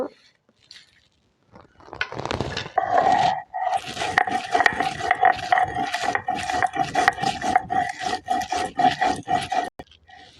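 Fried dry red chilli, cumin and garam masala being ground, most likely in an electric grinder: a loud, steady motor whine with a rough grinding rattle starts after a short quiet lead-in and runs about eight seconds before cutting off.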